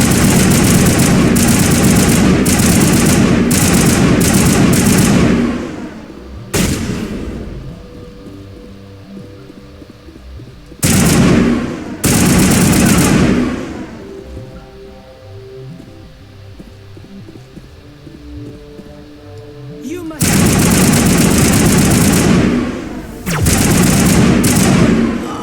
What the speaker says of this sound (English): Do I make this space-age shotgun work or what?